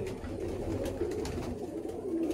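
Pigeons in a loft near Baruipur give a continuous, low cooing murmur, fairly close and steady, with no clear voices over it.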